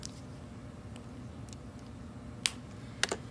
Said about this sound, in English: when you put the caps back on your markers that you hear that snap